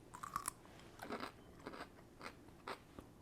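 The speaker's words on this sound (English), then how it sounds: "I hope you can hear that crunch to the camera" Biting into a fermented half-sour dill pickle gives several close, crisp crunches, followed by a few wetter chewing crunches in otherwise quiet surroundings.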